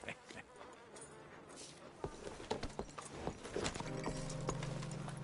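Steady hoofbeats of a horse in Red Dead Redemption 2 clip-clop in a running rhythm, mixed with a busy game soundscape and a faint droning hum underneath.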